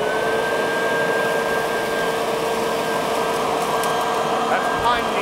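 A leaf vacuum mulcher roars steadily at close range while sucking up pine needles, a loud continuous motor whine with a sustained high tone and rushing airflow.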